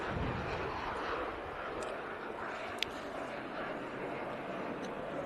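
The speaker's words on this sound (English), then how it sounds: "I'll let this jet go." Jet aircraft passing overhead near an outdoor cricket ground, a steady broad roar holding for several seconds at moderate level with a faint sharp click partway through.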